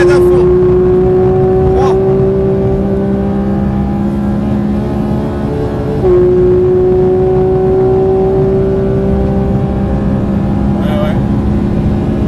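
A Porsche 992 GT3 engine at full throttle on a racing circuit, a loud sustained in-car howl climbing steadily in pitch, a brief shift near the middle, with someone speaking briefly over it.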